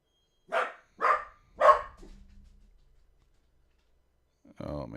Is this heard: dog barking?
yes